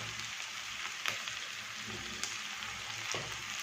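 Salted pork with a small amount of turmeric sizzles steadily in a hot pan, with a few sharp crackles and stirring scrapes over a continuous frying hiss.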